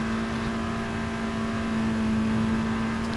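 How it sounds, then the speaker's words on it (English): A turbocharged race car engine in the GT Sport video game, a Volkswagen cup car at the Red Bull Ring, drones steadily at high revs with a constant loud whine and no breaks, nearby and unbroken for the whole stretch. "You can just hear the turbocharged engine just revving its absolute nuts off."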